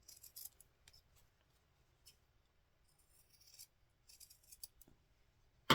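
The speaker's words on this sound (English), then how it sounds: "I'm now going to trim down the back seam allowance so that this will turn without a bulky seam." Gingher dress shears trimming a fabric seam allowance on a doll dress bodice: a series of quiet, close crisp snips and rasping cuts in uneven bursts, some clustered, others isolated, with near silence between.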